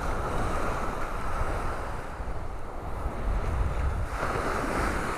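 Rough surf breaking on a Gulf beach in North Naples, Florida, a steady loud wash of waves with heavy wind buffeting the microphone throughout.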